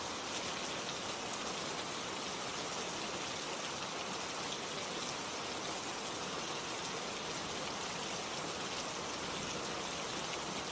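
Steady, dense rain falls continuously, a loud, even wash of patter with no pauses and no voices.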